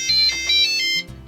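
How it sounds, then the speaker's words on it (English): An Ansmann Macnum RC battery charger powers up with its startup tune, a short run of bright electronic beeps in quick rhythmic succession, close and clear. "So now I'm going to power up the charger and listen to its little"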